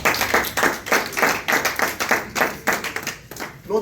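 A church congregation claps in steady rhythmic unison, a close, brisk beat of many hands keeping time for several seconds.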